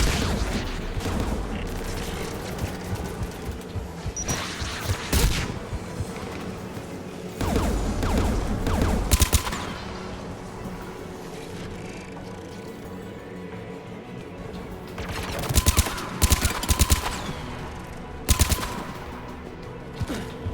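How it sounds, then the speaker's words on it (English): Anti-aircraft guns firing in Mass Effect 3, with bursts of heavy rapid gunfire and booming shots that recur in loud clusters over a rumbling battle background, some bursts long and others short. "Anti-aircraft guns are up ahead."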